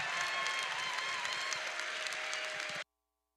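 Audience applause at a FIRST robotics district championship fills a large hall, a steady wash of clapping from many hands that holds evenly for nearly three seconds and then cuts off abruptly.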